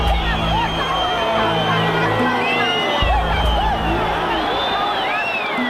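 Jubilant protesters crowd into the lower floors of a building during a revolution, a dense roar of voices and shouts heard close and continuous, with a low rumble beneath the babble.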